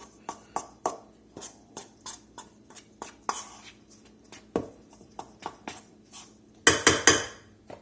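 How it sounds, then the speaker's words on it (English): Seasonings such as ground sage being worked into a sausage ball mixture in a bowl, a close run of irregular utensil taps and scrapes ending in a quick burst of harder clatter. "Get those seasonings mixed in here pretty good"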